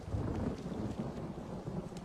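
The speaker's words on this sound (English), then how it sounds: "At least the rain sound effects are cool." Steady rain with a low rumble of thunder from the video game Elder Scrolls Online, a constant dense wash of weather ambience with no voices.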